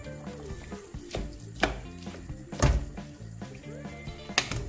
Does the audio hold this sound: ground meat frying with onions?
yes